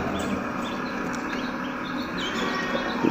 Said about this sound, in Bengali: দেখেন ছোট একটা কোয়েল পাখির খামার